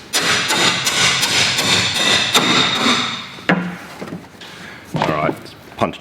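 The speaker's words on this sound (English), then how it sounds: "I'm going to try just hammering this outboard drive shaft through the foam." A hammer drives an outboard motor drive shaft through foam in a tinny boat, with a fast run of heavy knocks and thuds up close, then a few louder separate blows and pauses.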